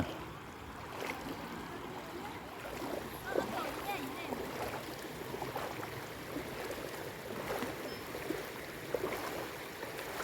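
Floodwater rushing across flooded rice fields after a heavy storm in Laos, a steady broadband wash of flowing water heard close by, with people talking faintly over it.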